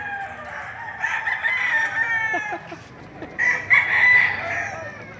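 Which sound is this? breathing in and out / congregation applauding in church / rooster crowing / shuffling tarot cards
rooster crowing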